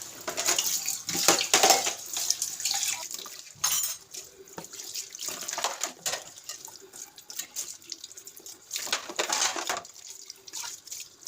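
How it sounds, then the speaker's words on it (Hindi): Dishes being washed under a running tap at a kitchen sink, with water splashing and clattering in uneven bursts over a steady flow, close and fairly loud, with no talking. "इसके बाद बारी है बर्तन धोने की।"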